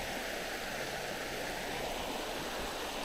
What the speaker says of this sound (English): Those are the Triphammer Falls right there.